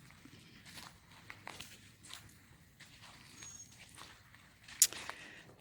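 Footsteps walking around a garden, soft irregular steps on the ground, fairly faint with a quiet outdoor background and one sharper sound near the end.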